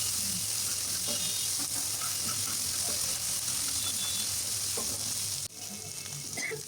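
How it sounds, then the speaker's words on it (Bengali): Chopped onion, green chili and garlic fry in a pan with a continuous close sizzle and occasional stirring scrapes, easing slightly toward the end, with no voices. "কাঁচামরিচ, রসুন এগুলো আমার প্রায় ভাজা হয়ে গেছে"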